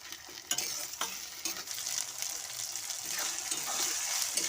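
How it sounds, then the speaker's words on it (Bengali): Four large chopped onions sizzle steadily in a pan for a palak paneer, with scraping stirs of a spoon through the frying oil, close and continuous without talk. "পেঁয়াজটা বেশি লাল করে ভাজার দরকার নেই।"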